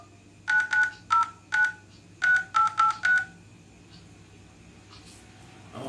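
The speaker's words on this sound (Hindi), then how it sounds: "बात करें अगर कीपैड की, तो यहाँ पे आपको कीपैड मिल जाएगा। और मैं जस्ट लाइक एक कॉल करके देखता हूँ।" Keypad dialing tones from an Apple Watch Series 3 GPS 42 mm Space Grey aluminium case: nine short, clear beeps in two quick groups, followed by quiet.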